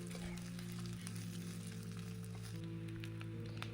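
Grated coconut fries in hot oil with mustard seeds and chilli, making a faint, continuous sizzle with scattered small crackles and pops. There is no talking.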